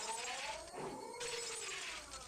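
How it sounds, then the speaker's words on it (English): Glass windows smashed with a hatchet in a Higurashi horror scene: a short, bright shattering crash with scattered breaking debris, loud and close, no voices. "I smashed all the glass windows too, for good measure."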